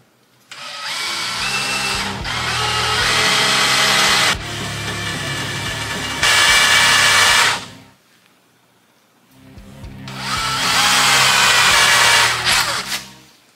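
A power drill bores into a broken bolt in bursts, loud and close, with a steady whining grind that runs for several seconds, pauses briefly, then resumes for a second long stretch.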